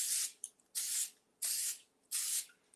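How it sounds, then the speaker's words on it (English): Cooking oil spray misted over rice paper pizza rolls before air frying, heard as three long hissing bursts with short pauses between them, close and fairly loud with no talking. "Okay, I'm just gonna spray,"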